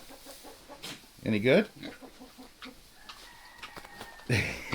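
Chickens and a rooster clucking in a winter farm barnyard alongside goats, with bursts of loud squawks among softer repeated clucks, while a person speaks briefly nearby.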